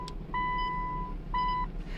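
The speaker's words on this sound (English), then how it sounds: "So I'm gonna turn the gimbal off." Two clean electronic beeps, one longer then one shorter, sound as a camera gimbal is switched off, over a low outdoor rumble.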